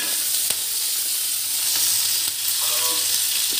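Chopped tomatoes hit a hot pan with fried green chilies, setting off a steady, bright sizzle with occasional stirring clicks, close and continuous.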